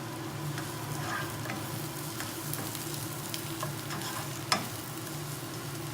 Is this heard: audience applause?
no